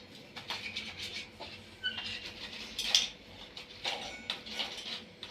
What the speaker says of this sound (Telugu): కొబ్బరి దురుముకుంటా, కొబ్బరిలు కట్ చేసుకుంటా మా పని ఫుల్ బిజీగా ఉన్నాం.